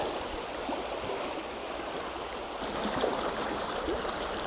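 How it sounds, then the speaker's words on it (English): River water pours and rushes between a pair of rocks at a narrowing run, a steady close broadband wash that keeps going with no pauses and no voices. "a lot of the river's pouring between a couple of rocks"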